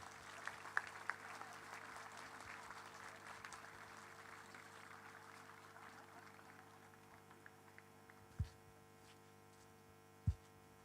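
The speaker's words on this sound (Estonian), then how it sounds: "teeme suure aplausi Võrumaa lauljatele ja tantsijatele ja ka muusikutele" A festival crowd applauds singers, dancers and musicians from Võru County at an outdoor song and dance celebration, a long steady wash of clapping over an electrical hum that gradually dies away, with a few loud thumps near the end.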